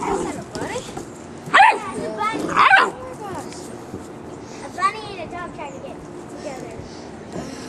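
A Doberman barks on command, giving a few sharp close barks and yips between stretches of quiet whining, while a person talks and praises it.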